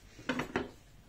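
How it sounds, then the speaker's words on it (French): Knife cutting celery stalks on a board, heard as two quick, close chops a fraction of a second apart, faint and otherwise quiet. "je découpe mes branches de céleri"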